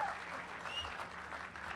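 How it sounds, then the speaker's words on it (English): Audience applause at the Jaipur Literature Festival, a brief, fairly faint burst of clapping from a crowd that sounds somewhat distant. "can we have a huge round of applause for Twinkle and all the volunteers and staff"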